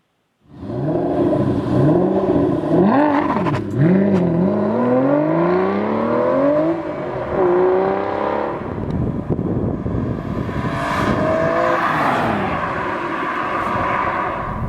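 An Aston Martin DBS pulls away on the road, heard from inside the car: its engine climbs through rising, gear-shifting revs, then settles into a steady, loud drone with road noise underneath.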